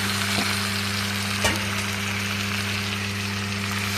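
Chicken pieces for a drumstick curry frying in a pan with a steady, loud, hissing sizzle and a couple of faint knocks from the pan, with no voices.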